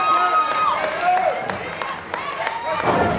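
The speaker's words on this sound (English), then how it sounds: "The crowd is trying to get behind her now." A wrestling arena crowd cheers and claps for Santana Garrett, a busy wash of applause and shouts broken by sharp thuds, with a commentator talking over it.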